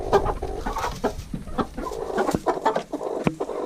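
A rooster clucks in a henhouse with a quick series of close, short, throaty clucks and scratchy rustling movements, with no one talking.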